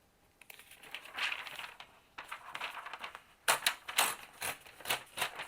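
Paper pages being torn from a composition notebook, with quiet ripping and crinkling bursts, a short pause, then faster tearing close by.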